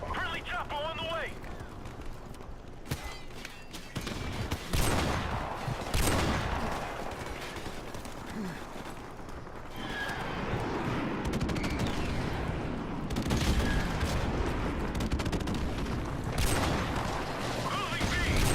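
Barrett .50 sniper rifle shots in a video game fire as sharp, loud, widely spaced cracks among other gunfire and explosions, with game voices calling out over the battle.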